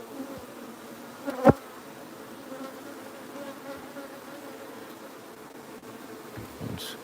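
Honeybees from a wild hive being moved to a new home, a steady soft buzzing drone throughout with one brief louder bump near the start, no voices.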